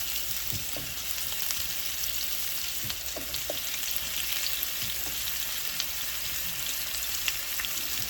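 Half a white onion fries in a pan on a stovetop, giving a continuous even sizzle with occasional soft knocks from stirring, close up and with no voices.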